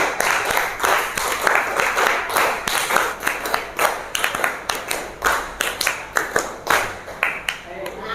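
Hand clapping in a teacher-training lesson, loud repeated claps in quick bursts with a rhythmic, counted feel, carrying on steadily with no voices over them.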